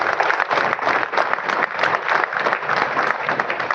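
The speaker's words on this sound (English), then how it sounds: "I am definitely going to ask you to give him a big round of applause" A hall full of people at a district governor installation ceremony gives a long, loud round of applause, dense and steady throughout with slight surges in intensity.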